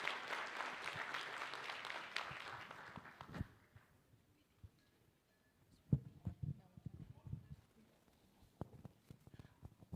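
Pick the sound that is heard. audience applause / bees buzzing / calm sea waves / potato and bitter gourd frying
audience applause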